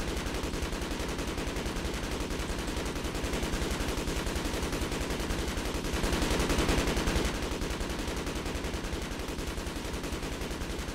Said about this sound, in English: He's still shooting. He can stop shooting.